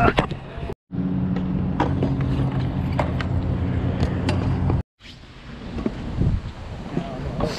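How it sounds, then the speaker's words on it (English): Strong wind buffets the microphone at a skatepark with a big quarter pipe and box jump, a loud rushing roar broken by two brief dropouts, with faint rolling and clatter beneath. "So much wind."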